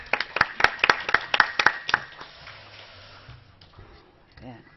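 A church congregation claps in a short burst of about a dozen sharp, evenly spaced claps, fairly close, then the clapping stops and a quieter stretch of room sound and faint voices follows.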